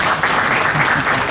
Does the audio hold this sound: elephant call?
no